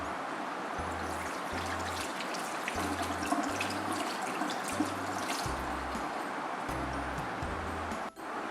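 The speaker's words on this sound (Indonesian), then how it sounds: "Kita mencuci tangan di bawah air mengalir." Hands washed under running tap water, a soft continuous splash and trickle from the faucet with faint low thumps recurring, quiet and close with no speech.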